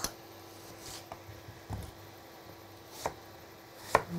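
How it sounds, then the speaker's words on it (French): Apples are cut with a knife into halves and then quarters on a cutting board. A few sparse, distinct knife taps and board knocks sound close up in a quiet room, with no speech. "je vais venir tailler en deux, puis faire des jolis quartiers qu'on va venir rôtir"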